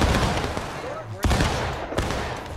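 Musket volleys in the Civil War game War of Rights, with a large battle event underway: dense, crackling gunfire with two sharp, loud reports standing out, mixed with distant shots and shouting voices.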